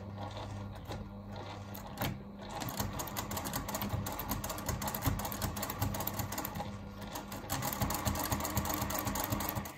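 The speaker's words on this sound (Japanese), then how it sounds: "返し縫いをして縫い始めます。" A sewing machine stitches a concealed zipper, starting with a backstitch at the base of the zipper teeth. Its rapid mechanical chatter runs steadily and close for the whole stretch, with no talking.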